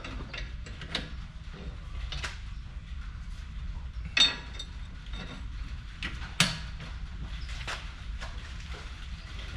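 A torque wrench tightens the wheel hub nut on a Lexus GS 350. Two sharp, distinct clicks stand out against low, quiet mechanical rattling from the workshop.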